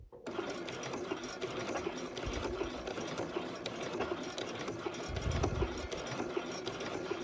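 A sewing machine stitches in the ditch through fabric with a standard foot: a steady, close, whirring mechanical run with faint rhythmic clatter that rises slightly near the end, and no speech over it.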